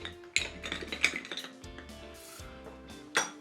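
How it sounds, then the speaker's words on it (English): A large ice cube drops into a cocktail glass while making a Waterproof Watch drink. Sharp glassy clinks ring out at intervals, with lighter rattles and taps between them, fairly quiet and close. "Then we're going to toss in 1 large ice cube into there."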